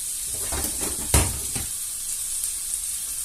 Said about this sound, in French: on verse les oignons dedans. Et on va les faire revenir.